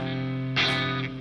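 An electric guitar with its strings pressed down and left unmuted rings out in a sustained chord, brightening with a fresh strum partway through, alone and close.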